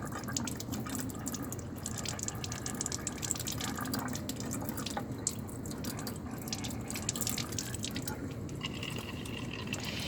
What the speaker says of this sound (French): on rince bien, encore une fois,